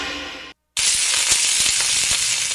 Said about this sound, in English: That's the sound of your skin cooking.